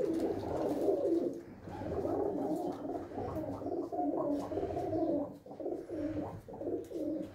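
Several pigeons in a coop coo continuously up close, their soft throaty, gargling calls overlapping in a steady murmur with no talking.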